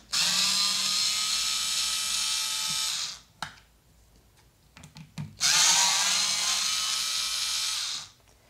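A handheld power tool whines at high pitch for about three seconds, backing screws out of a power tool's body, then after a pause with small clicks and handling knocks it runs again for a similar stretch.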